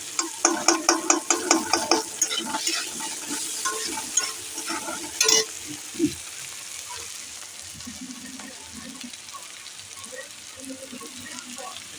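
Vegetables with pickled chili sautéed and stirred in a pan, with quick rapid scraping strokes over frying at first, then a steadier soft sizzle that carries on alone.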